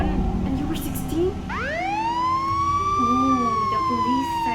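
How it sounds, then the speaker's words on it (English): A police siren rises and wails steadily outside during a podcast conversation, loud and sustained beneath people talking. "the police siren is ringing"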